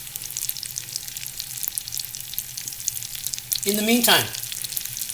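Stuffed chicken breasts frying in a pan over medium-high heat, a steady close sizzle throughout with a louder burst near the end, while a person speaks briefly over it.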